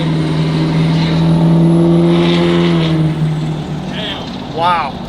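A Chevrolet L5P Duramax diesel pickup truck accelerates close up, its loud, steady engine drone holding for several seconds before easing off, with a brief voice near the end.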